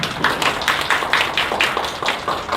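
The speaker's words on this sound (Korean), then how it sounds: "여기 계신 모든 분들의 박수로 시작하도록 하겠습니다" Clapping from attendees opening a debate forum on the Gadeokdo new airport's economic prospects comes in distinct, fairly sparse bursts, roughly rhythmic and moderately loud, with no talk over it.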